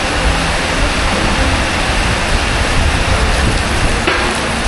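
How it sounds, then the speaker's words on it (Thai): Steady, dense hiss of rain falling outdoors at a used rice combine harvester sales yard in Thailand, a broad continuous wash that holds loud and even throughout with no voices. "มีฝนตกพอดีเลย"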